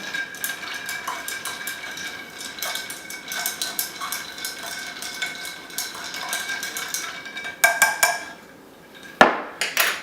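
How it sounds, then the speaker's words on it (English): A bar spoon stirs a cocktail over ice in a glass, giving close, bright, rapid clinking and rattling that runs continuously, with a few louder knocks near the end and no talk. "Stir."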